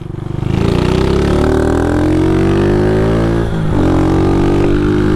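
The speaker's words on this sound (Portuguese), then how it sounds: "Ela falando que o escape é barulhento" A Honda Start 160 motorcycle with a loud aftermarket exhaust revs up hard and holds a high, steady roar, dips briefly, then climbs again, close and loud with no talk.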